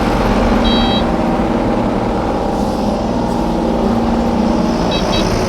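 A 2021 Kubota U35-4 rubber-track mini excavator swings and travels in two-speed, giving a steady, loud engine and hydraulic drone with faint short beeps near the start and end.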